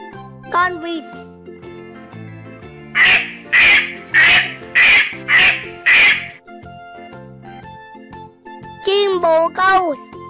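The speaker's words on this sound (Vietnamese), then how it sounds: "Con vịt." A duck quacks six times in a steady, evenly spaced series, loud and close, with a voice speaking before and after over light background music.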